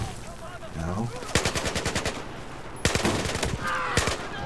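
Video-game gunfire in Baconfield 4: two dense bursts of rapid automatic shots, the first near the middle and a second toward the end, loud and close, with scattered single cracks between the bursts.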